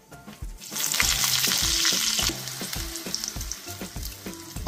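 Curry leaves dropped into hot oil in a pan while making a semolina pancake, giving a loud, close, crackling sizzle that swells at first and then settles into steady frying with scattered pops.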